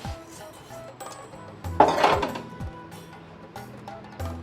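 Toasted millet laddu mixture tipped out onto a plate, giving a short burst of rattling, clinking grains and metal knocks in the middle, close up, with quieter pan handling before and after.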